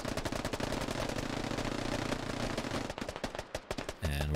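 Rapid automatic gunfire from cover fire in the tactical shooter SquadOps, dense, loud bursts packed tight for several seconds, then thinning into separate spaced shots before a different rumbling noise takes over at the end.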